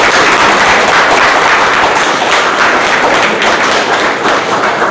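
Loud, dense applause from an audience at a Toastmasters club meeting, a steady wash of many hands clapping close by without pause, with no talking over it.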